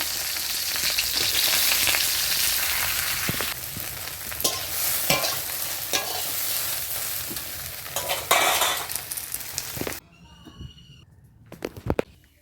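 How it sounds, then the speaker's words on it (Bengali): Okra tossed into hot oil in a wok gives a loud, continuous sizzle and crackle with occasional stirring clatter, then drops to quieter spatters and a few sharp knocks in the last seconds. "তেল গরম হয়ে গেছে, এখন আমরা ভেন্ডিগুলোকে দিয়ে দেব"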